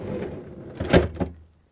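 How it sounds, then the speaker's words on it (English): A refrigerator freezer drawer on a Samsung fridge slides in along its rails, a short rumbling glide ending in a couple of close thuds. "Let's slide the rails in."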